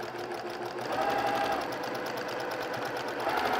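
Sewing machine steadily stitching through fabric while piecing a jelly roll quilt block, a continuous close mechanical whir with a fast regular needle rhythm and no pauses, heard alone.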